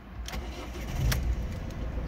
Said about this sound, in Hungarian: Szépen hibakódmentesen csendben beindul.